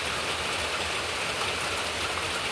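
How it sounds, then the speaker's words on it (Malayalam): Heavy monsoon rain pours down steadily in Kerala at the start of the rainy season, a dense, even hiss with no breaks and no voices. "ഇവിടെയും നല്ല മഴയാണ് കേട്ടോ. നല്ല മഴ പെയ്യുന്നുണ്ട്"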